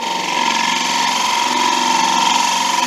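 A woodturning gouge takes a cut across an end grain bowl spinning on a lathe, giving a steady, loud, continuous whine with a scraping hiss that holds evenly throughout.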